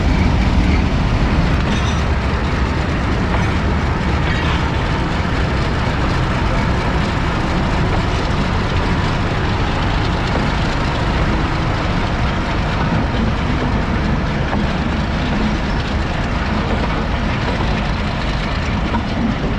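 Pakistan Express and Millat Express trains run side by side near Lalamusa, producing a loud, continuous rumble with rolling wheel clatter that persists throughout without any talk.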